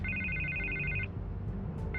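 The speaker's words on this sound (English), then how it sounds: "I can't get the phone to stop ringing" A telephone rings in sharp, insistent electronic bursts, one long ring breaking off before the next begins, over a low rumbling background.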